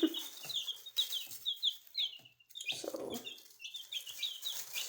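Chickens cluck and chirp in quick, soft bursts close by, with small peeping calls scattered throughout and no voices.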